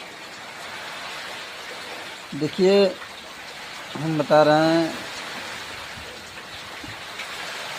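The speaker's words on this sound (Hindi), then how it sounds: "आपको दिखा रहा है कितना बारिश हो रही है" Heavy rain pours down in a steady, even hiss throughout, with someone speaking briefly twice over it.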